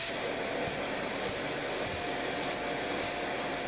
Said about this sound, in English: So we will kick it on.